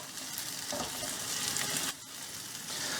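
Tomato, curry leaves and green chillies frying in a pan for a dried manthal fish dish, giving a soft continuous sizzle with a few light stirring scrapes, fairly quiet and close, no talk.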